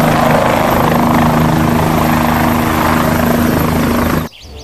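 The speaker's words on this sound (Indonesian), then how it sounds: "Widih, ada helikopter." A helicopter roars loudly and continuously with thudding rotor noise, then cuts off abruptly near the end.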